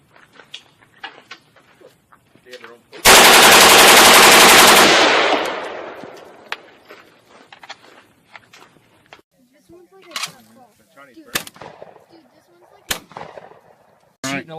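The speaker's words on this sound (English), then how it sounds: "Shooting a lot of tannerite." Gunfire and a large blast of exploding tannerite targets at an outdoor range, one loud sustained roar fading over a few seconds, then scattered sharp single shots and faint talk in between.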